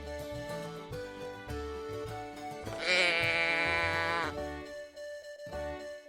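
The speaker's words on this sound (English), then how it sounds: "The sheep says baa," One sheep gives a loud, wavering bleat lasting about a second and a half, heard close up against a faint, steady background.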